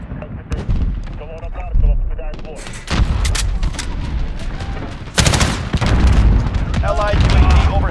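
Battle sounds in Call of Duty: Modern Warfare Ground War, with loud booming blasts, bursts of gunfire and heavy impacts close by, rising into a dense, sustained roar of explosions and shooting.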